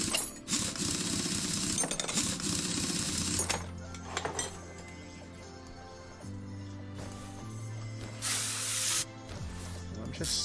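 Car wheels come off in Car Mechanic Simulator 2021 with repeated hissing pneumatic wrench bursts and metallic clinks, loud and close, separated by brief pauses and a low hum.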